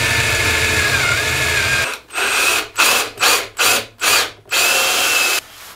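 Power drill boring holes through a PowSurf board, starting with a long continuous whine and then five short separate bursts with pauses between them, close and loud, with no voices.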